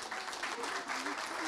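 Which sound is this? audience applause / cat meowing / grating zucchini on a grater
audience applause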